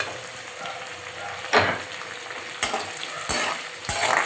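Curry leaves crackle and sizzle in hot oil while tempering pongal, with several sharp bursts of spattering over a low steady frying hiss and no talking.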